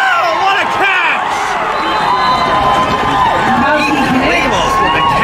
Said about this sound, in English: now this crowd comes up even bigger